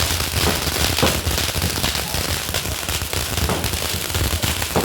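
Firecrackers go off late at night during a village goddess festival, a dense, continuous barrage of loud crackling bursts and rapid pops filling the whole stretch without pause.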